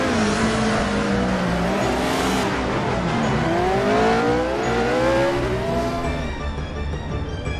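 A 1975 Formula 1 race car in the Assetto Corsa racing game revs hard, its engine pitch sweeping up and down continuously, with tire squeal and skidding layered over a loud, steady roar.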